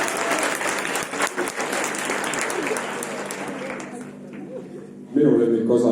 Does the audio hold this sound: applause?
yes